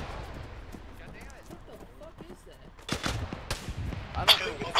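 Enemy gunfire in a military video game: bursts of sharp shots and rapid automatic fire, growing louder and denser toward the end, with people talking over it.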